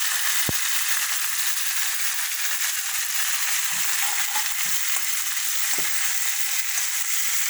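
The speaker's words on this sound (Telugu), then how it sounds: "వంకాయ కూడా వేసేస్తాను." Home-grown brinjal sizzles as it is added to a hot pan, a continuous bright frying hiss with a few soft knocks and stirring clicks scattered throughout, close and steady with no talk.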